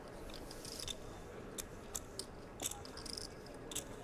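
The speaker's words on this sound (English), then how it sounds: "both of these guys going with the gum chewing here early in the heads up" Gum chewing by poker players heads-up at the 2013 World Series of Poker final table in Las Vegas, heard as soft, close, irregular crunchy mouth clicks over a steady low room hum, with no talk.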